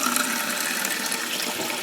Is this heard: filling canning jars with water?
yes